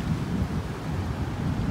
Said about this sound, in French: Par contre, à Londres, il y a énormément de vent.